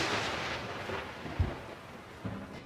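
Thunder from a lightning strike in a TV show, a broad low rumble with a sharp crack in the middle and a smaller boom near the end, set against steady rain-like hiss.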